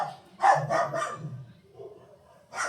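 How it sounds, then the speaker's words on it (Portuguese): A small female dog barks indoors in a quick burst of three close yaps, then one more bark after a short pause, loud and near. "minha cachorrinha"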